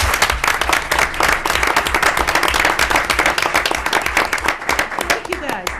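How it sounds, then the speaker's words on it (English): A room at a school committee meeting breaks into dense, sustained applause for a fifth grade robotics team. Many hands clap steadily and loudly, with crowd voices mixed in. "you deserve a huge round of applause"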